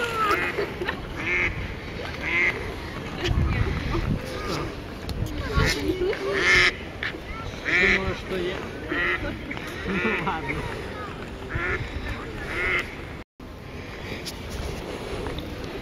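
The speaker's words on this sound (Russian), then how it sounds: "Так крякали, защищались от собачек." Ducks quack repeatedly in short bursts along a lake shore, fairly close, over steady outdoor background noise, with a person speaking at times.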